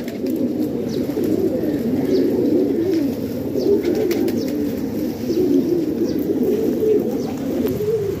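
Pet pigeons coo continuously in soft, overlapping low calls, close by, with a steady murmur throughout and occasional faint chirps above.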